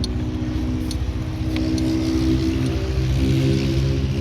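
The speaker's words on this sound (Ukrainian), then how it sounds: "Послухайте, як працює двигун." A Honda Dio 110 JF31 fuel-injected scooter engine runs steadily at idle, a continuous low rumble with faint rattling, close by and alone.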